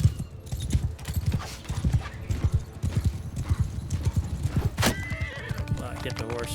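Horse hooves clip-clop steadily in Mount & Blade II Bannerlord, with a dense, loud stream of galloping hoofbeats and a neigh over busy battle noise.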